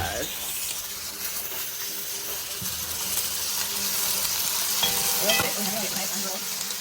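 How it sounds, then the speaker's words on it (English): A spoon stirs sizzling food in a pot. A steady frying hiss sits under scraping and clinking from the stirring, which grows slightly busier toward the end. "Okay, I need a spoon to stir"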